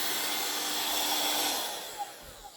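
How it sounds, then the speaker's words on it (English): A Honk cordless mini hand vacuum runs close by with a steady, airy high-pitched whir that dips slightly in level near the end, with a couple of faint clicks and no talking. "this mini hand vac is pretty good"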